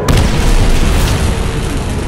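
Grenade blasts in Call of Duty: World at War custom zombies on the Nuketown map, a loud, dense booming explosion that fills the whole moment with a rumbling roar.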